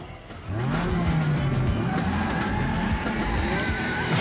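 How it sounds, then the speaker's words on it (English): A radio-controlled car fitted with a rocket or jet engine does a burnout, giving a loud, steady roar with rising and falling tire and engine squeals throughout. "Why are you doing a burnout?"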